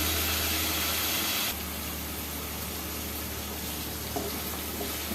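Chilies and onion paste frying in a pan make a steady, close sizzle with a constant hissing texture and no pauses from start to finish.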